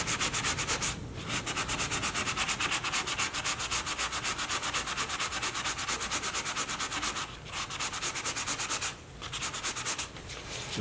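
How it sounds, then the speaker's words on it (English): Sandpaper rubs back and forth over filler on a leather repair, a close, loud, rhythmic scratchy hiss with a few short pauses. "We're going to sand our filler"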